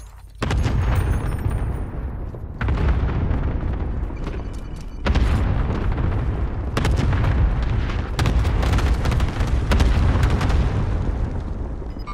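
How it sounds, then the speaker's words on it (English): In Call of Duty: Warzone, an allied cluster airstrike sets off a string of heavy, booming explosions, several large blasts rolling one after another over about twelve seconds, loud and close, with no talk. "Allied cluster strike inbound"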